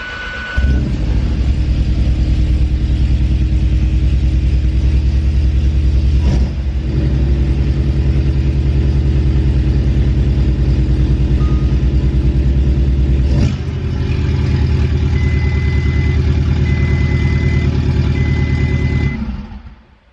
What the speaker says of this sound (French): Ce que tu as entendu, le bruit d'échappement là